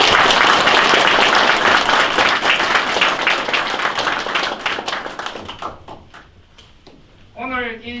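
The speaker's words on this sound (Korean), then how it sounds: "힘찬 감사의 박수를 부탁드립니다" An audience at a police veterans' association event applauds a presidential candidate. Loud, dense clapping gradually thins into scattered claps, and a voice begins speaking at the end.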